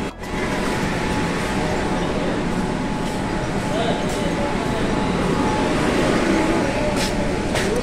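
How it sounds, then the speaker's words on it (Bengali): A Kolkata Green Line metro train stands at Howrah Maidan station, giving a loud, continuous rumble and hum inside the underground platform. "একটা মেট্রো অলরেডি চলে এসেছে, আমি এখন উঠে পড়বো মেট্রোর মধ্যেই"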